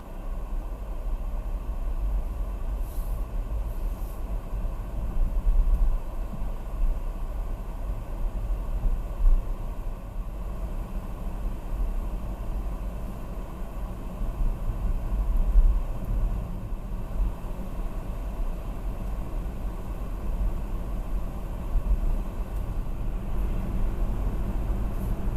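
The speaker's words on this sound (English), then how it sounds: "I am now driving at about 95 to 100 kilometers an hour, going back and forth between those speeds." A car cruising on a freeway at about 95 to 100 km/h in minus 27 degree cold, giving a steady low road and engine rumble with broadband tire hiss that holds nearly constant throughout, with no talking.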